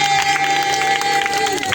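Worshippers at an evangelical crusade service keep up continuous cheering and clapping for Jesus, a full crowd sound blended with held musical notes in the background.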